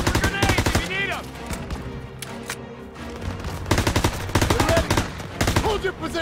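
Bursts of rapid machine-gun and rifle fire in a Call of Duty WWII battle, loud and close, with shouting voices between volleys and a brief lull before the shooting resumes.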